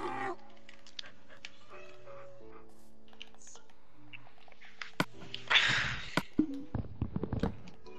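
A dog whimpers in a Minecraft game, faint high cries amid quiet background sounds, with a burst of noise and rapid keyboard clicks typed close by.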